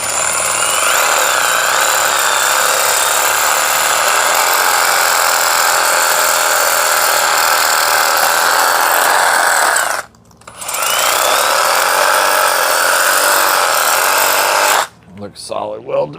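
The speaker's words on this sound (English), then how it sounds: "It's a spider wire brush." A Milwaukee drill spinning a spider wire brush against metal, cleaning a weld area while installing a thumb on a Bobcat E10, with a loud continuous whirring grind, one short pause, then a stop near the end.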